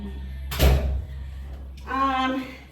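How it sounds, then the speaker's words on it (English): A door is pushed shut in a house, giving one dull thump with a brief rattle; faint background music plays, and a voice speaks briefly a moment later. "let me just go close this door for a little bit"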